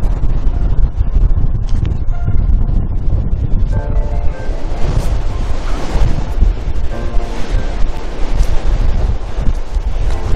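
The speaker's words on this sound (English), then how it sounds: "Then behind us to that side, you've got the North Sea." Choppy North Sea waves break at Spurn Point, a spit on the East Yorkshire coast, surging loud and close with heavy wind buffeting throughout.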